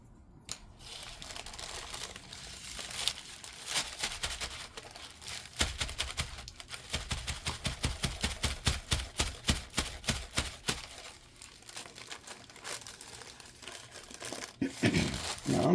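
Gold leaf foil is rubbed and brushed off leaves in rapid crinkly scratching strokes, close and rhythmic, building into a fast burst of repeated rubs before easing off.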